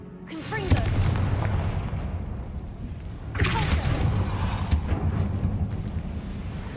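Confringo fire spell blasts in Hogwarts Legacy, two loud booming bursts a few seconds apart, each with a sharp crack followed by a rumbling tail over a low, steady background drone.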